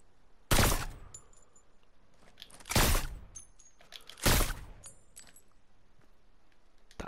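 Three sharp suppressed sniper rifle shots from Fortnite ring out at spaced intervals, each a quick bright crack with a short tail, with faint clicks and chimes of the game between them.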